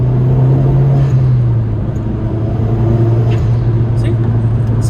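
A Mazdaspeed3 engine fitted with a Corksport diverter valve and a carb-legal intake hums steadily from inside the car, a low constant drone with a slight dip and rise in pitch, while a person talks over it.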